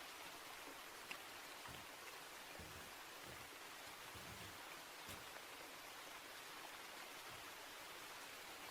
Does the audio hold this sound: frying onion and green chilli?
no